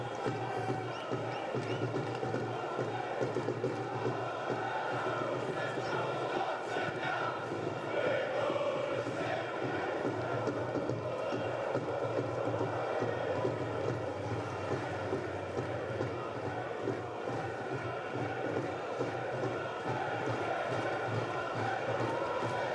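Football stadium crowd at Portsmouth v Leeds United, a broad, constant murmur and roar from thousands of spectators filling the ground, steady throughout with no distinct peaks.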